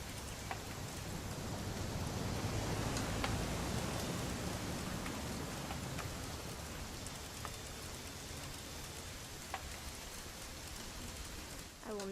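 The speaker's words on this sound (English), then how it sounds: "It's gonna rain the whole weekend, isn't it?" Steady rain falls in the video game What Remains of Edith Finch, a continuous soft hiss of raindrops with occasional faint drips and taps, evenly spread and moderately quiet, with no other sounds rising above it.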